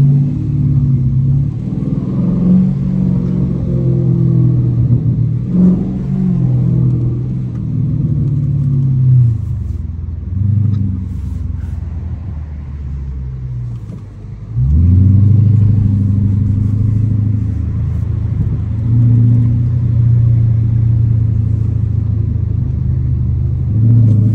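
Loud, deep exhaust drone of a Dodge Challenger R/T rumbling steadily, with a brief dip and then a stronger surge as the engine accelerates again.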